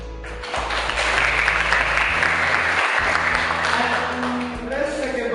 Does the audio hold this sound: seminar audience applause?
yes